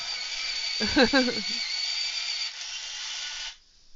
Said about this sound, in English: Into the electric sharpener you go.